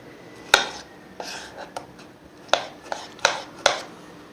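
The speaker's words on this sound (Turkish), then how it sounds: "Domateslerimi de güzelce doğruyorum." A knife strikes a cutting board in a few sharp, uneven taps, chopping tomatoes close by, with light clatter between them.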